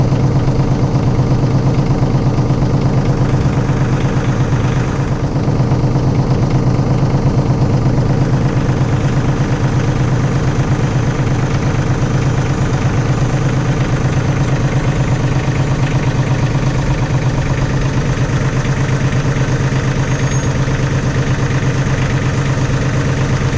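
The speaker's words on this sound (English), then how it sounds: "Go ahead and start your tractor, Scott." A tractor engine idles steadily and close by, a constant loud mid-low drone with faint vibration, no talk over it, while a flail mower is being lifted.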